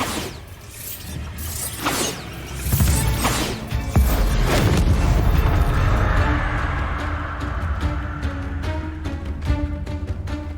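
A Bombarda blasting spell goes off in Hogwarts Legacy, a loud booming crash with whooshing swells, then rattling debris and mechanical clatter tapering off over several seconds, with no speech.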